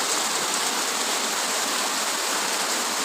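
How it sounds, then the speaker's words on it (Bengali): Heavy rain pours down steadily in a dense, even broadband hiss that stays loud and unbroken throughout, with no voices over it. "প্রচুর বৃষ্টি হচ্ছে আজকে।"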